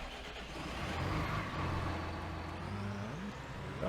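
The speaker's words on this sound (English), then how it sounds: "Just the little tractor. Alright, we'll grab the little guy." A small tractor engine in Farming Simulator 19 drones steadily throughout, with a low rumbling idle and a slight rise in pitch toward the end.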